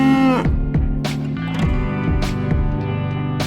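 A cow gives a short low moo at the start, over a bouncy cartoon tune with a steady beat that continues to the end.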